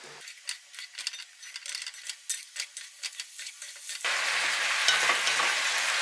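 Air-fried potatoes are tossed in a pan of sugar syrup for candied potatoes, first with irregular stirring clicks and scrapes, then a steady loud sizzle that fills the last couple of seconds.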